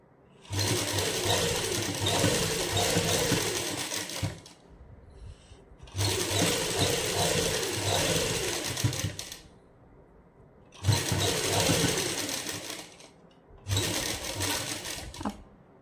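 A sewing machine stitches lace onto the corner of a suit hem in three long, steady whirring bursts and a shorter fourth, separated by pauses; it is close and fairly loud with no talking.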